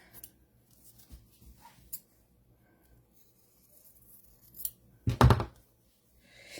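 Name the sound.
scissors cutting out quilt fabric piece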